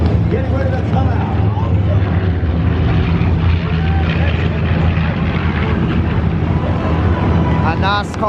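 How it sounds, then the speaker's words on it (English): B-25 Mitchell bomber Panchito flying at an airshow, its engines a loud, steady drone filling the whole stretch, with crowd chatter and an announcer's voice running beneath it. "As Panchito makes a turn back toward Show Center, the crew will show you the business side of the Mitchell bomber."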